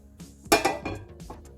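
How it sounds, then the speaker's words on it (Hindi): Fried mushrooms being moved from the pan into a pot, with metal utensils clinking and scraping against cookware in a few quick knocks; no talking. "अब हम इसे एक बर्तन में निकाल लेंगे।"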